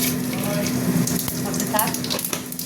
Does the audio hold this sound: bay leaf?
yes